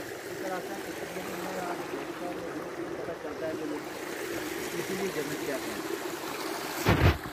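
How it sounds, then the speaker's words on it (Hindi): Spring-fed stream rushing quickly through a valley in Azad Kashmir, a steady broad watery hiss running throughout beneath someone speaking, with a brief louder knock near the end. "ये चश्मे का पानी किस तरह बह रहा है"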